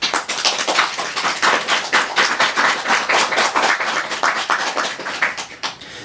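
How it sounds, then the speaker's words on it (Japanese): Audience members clap steadily to vote for the left side in a Japanese waka and dance performance contest, a dense, fairly loud burst of many hands that continues without talk. "左肩が、良いという方は拍手を送ってください。"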